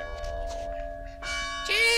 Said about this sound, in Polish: Nie słyszysz dział i dzwonów, które dzwonią na atak.